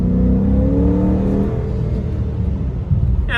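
A 2016 Dodge Charger R/T engine revs hard under acceleration, a loud, deep rumbling drone that climbs and then settles into a steady roar, close and alone without any talk.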